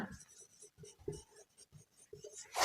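Chalk or marker scratching on a classroom board as a chemical name is written, a run of short rhythmic strokes and taps at close range, quiet, with a voice briefly at the end.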